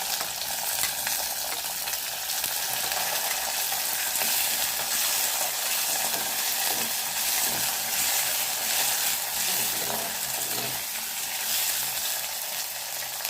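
Garlic sautéing in a pan sends up a dense, constant sizzle at moderate volume, with light stirring textures and no talk.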